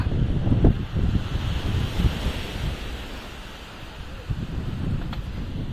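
Sea water surges and splashes against the shore at Somnath, Gujarat, in loud, rolling washes mixed with gusty wind rumble on the microphone, fading a little midway before building again.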